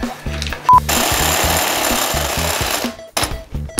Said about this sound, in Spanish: Sí, amigos, una broca de hormigón.